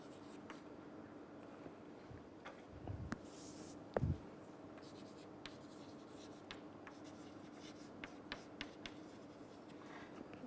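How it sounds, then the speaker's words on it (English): Chalk or marker strokes on a board during a math lecture, a quiet steady scratching with short taps and a couple of louder knocks, fairly close in a still room with no talking. "let me write that over here."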